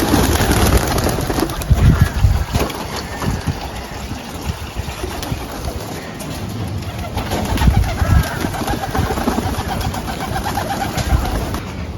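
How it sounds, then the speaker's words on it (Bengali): Magpie pigeons coo in a garden aviary, repeated soft throaty calls over a steady background hum and some rustling, with no talk. "ম্যাকপাই কবুতরগুলো কিন্তু অনেক সুন্দর।"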